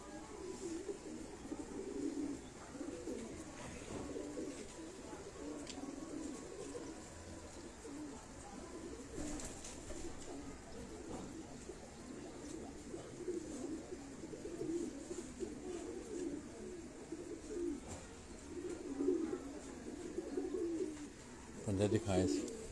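Fancy pigeons in an Abbottabad loft coo steadily in low, throaty murmurs that run throughout, with voices present alongside.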